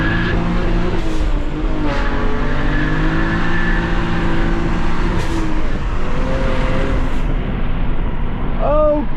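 A manual 400hp BMW 335is driven hard, its engine revving and rising and falling through gear changes continuously from a close in-car position, loud throughout with some road noise.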